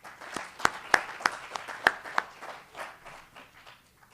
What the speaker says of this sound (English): So a big round of applause for Mr.